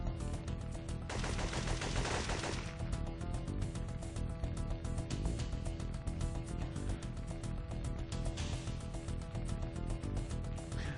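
Gunfire in a shooter video game: rapid, loud bursts of shots repeat almost without pause, like automatic weapons, with no talk.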